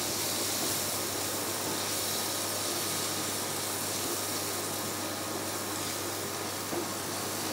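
Steady sizzling hiss of chopped garlic and three kinds of capsicum frying in a pan, an even, continuous crackle throughout with no voices.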